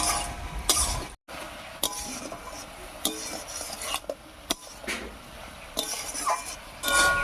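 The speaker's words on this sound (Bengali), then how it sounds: "এবার খুব ভালো করে মিশিয়ে নেব" Eggplant stirred together with slit green chilies, salt and turmeric in a pan, a spoon scraping and clinking against the metal in irregular strokes over a faint background sizzle.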